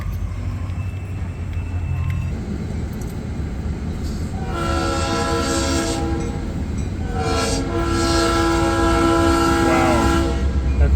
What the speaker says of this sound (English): How'd they not hear that horn?